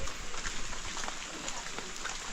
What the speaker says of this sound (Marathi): पाऊस एवढा पडतो आहे